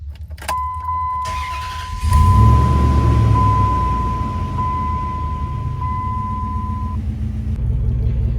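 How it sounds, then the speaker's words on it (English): A truck engine, recently repaired, starts and then holds a steady low idle, with a continuous close rumble and a brief warning tone sounding early on. "Seems to be holding a steady idle"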